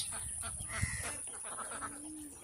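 A large duck farm on a haor wetland: a faint, distant scatter of honking quacks rises from a noisy, breezy outdoor background.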